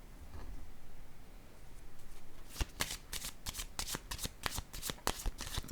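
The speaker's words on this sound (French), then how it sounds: "je vais piger une carte avec ces deux mots-là" A deck of cards is shuffled in a quick run of crisp riffling snaps, then a card is drawn, close and fairly quiet with no talking.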